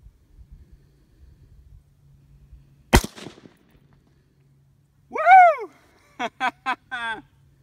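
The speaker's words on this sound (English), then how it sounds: "let's shoot it and see what happens." A .223 rifle fires DRT Elite ammunition into a pumpkin: one sharp loud crack near mid-clip after quiet low rumbling, followed later by several short bursts of exclamation-like voice sounds.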